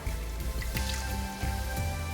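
Water is poured into a pot of Thai yellow chicken curry with coconut milk, giving a soft trickling, dripping patter with a few brief splashes at a moderate level.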